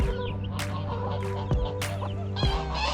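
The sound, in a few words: chicks and hens in the yard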